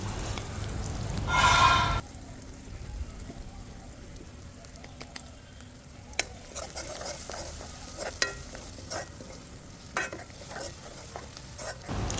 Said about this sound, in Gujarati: હવે એ જ ગરમ તેલમાં આપણે થોડી હિંગ અને સમારેલી ડુંગળી ઉમેરી દઈશું